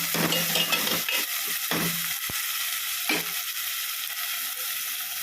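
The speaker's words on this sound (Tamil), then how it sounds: "உப்பு போட்டோன்னா தக்காளி நல்லா சீக்கிரமாக நல்லா வதங்கிடும்" Tomatoes softening with salt in hot oil for a brinjal kara kuzhambu give off a steady, fairly loud sizzle, with a few short bursts of stirring or scraping near the start and middle.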